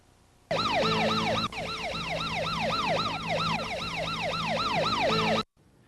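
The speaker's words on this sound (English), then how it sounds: "Did you hear the sound of an emergency vehicle?" An emergency vehicle siren wails loud and close, a rapid rising-and-falling yelp repeating steadily for about five seconds before cutting off abruptly.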